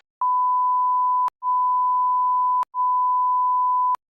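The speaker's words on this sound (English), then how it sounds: "We're gonna bleep this whole part." A steady censor bleep tone plays in three long stretches of about a second each, split by sharp clicks, loud and alone with no talk.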